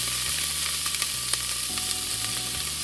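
Onion, garlic and green pepper sizzling and frying in a pan for marinara sauce, a dense steady crackle with soft stirring scrapes, close and fairly loud, no voices.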